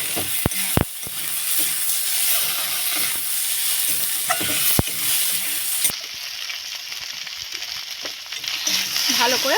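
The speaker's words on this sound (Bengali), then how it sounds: "দিয়ে ভালো করে একসাথে কষিয়ে নেব।" Potatoes and tomatoes stir-fried together with small fish in a pan: a steady loud sizzle with sharp scraping knocks of the spatula against the pan, close up, no talking.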